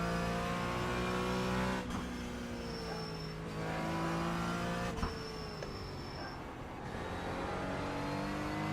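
A Porsche GT4 race car engine drones steadily in a sim racing session at Road Atlanta, its pitch rising and falling through gear changes, with a brief thump and shift near the middle.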